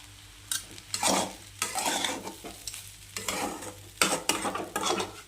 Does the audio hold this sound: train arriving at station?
no